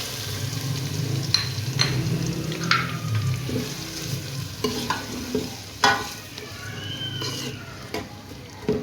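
Onions sizzle softly in a pan for aloo palak while a utensil stirs and scrapes, with occasional clinks and knocks over a steady frying hiss.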